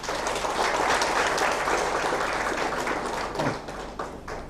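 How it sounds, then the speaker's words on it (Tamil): At an International Yoga Day celebration, an audience claps steadily for several seconds, a broad even wash of applause that thins slightly toward the end. "அவருக்கு ஒரு நல்ல ஒரு கரகோஷம் கொடுத்து அவர் வழி அனுப்பணும்."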